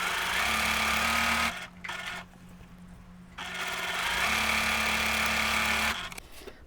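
A sewing machine stitching quilt units for a sawtooth star block, a close steady mechanical hum with a tonal whir running for about a second and a half, pausing, then running again for several seconds before stopping.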